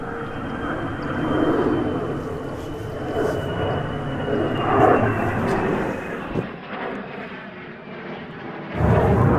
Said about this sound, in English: A surprise flyover from the F-35 fighter jet then stole the attention.